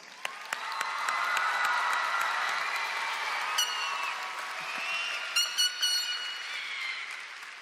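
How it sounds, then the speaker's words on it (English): Sustained applause and crowd noise fill a large hall at a high school graduation ceremony, a steady wash of clapping with scattered cheers and a few whistles near the end. "A round of applause for all of us."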